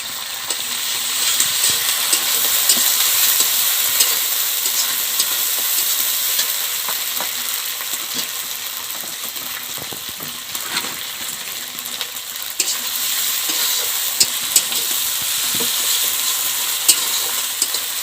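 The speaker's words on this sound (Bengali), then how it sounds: "জিরে বাটাটা দিয়ে ভালোভাবে নাড়াচাড়া করে নিলাম" Cumin paste fries in oil for a Bengali fish curry, a steady close sizzle with frequent spoon scrapes and light metallic taps as it is stirred around the pan.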